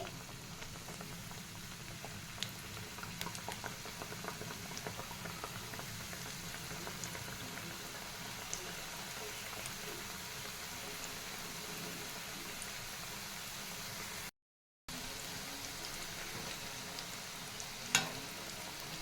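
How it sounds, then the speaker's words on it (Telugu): Kajjikaya, sweet crisp stuffed pastries, deep-fry in hot oil in a kadai over a medium flame, making a constant bubbling, boiling-like hiss with a brief dropout near the end, with no speech. "ఆయిల్ వేడయ్యాక ఇందులో కజ్జికాయలు వేసుకొని ఫ్రై చేసుకోవాలి"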